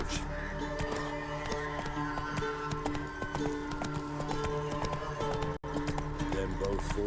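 Roach, Geralt's horse in The Witcher 3, clip-clops along in a steady gallop of hoofbeats beneath a sustained musical score and game ambience.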